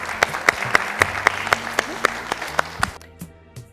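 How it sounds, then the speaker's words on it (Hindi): An audience at an addiction-awareness talk show claps in a fairly even rhythm of sharp, distinct claps, close and loud, before thinning out and fading near the end. "बहुत बहुत जोरदार तालियां"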